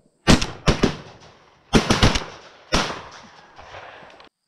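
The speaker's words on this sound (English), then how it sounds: "He always shoots three shots." Shotgun shots on a public-land dove hunt: three sharp, loud blasts come in quick clusters with echoing tails, spaced about a second apart, carrying across open ground.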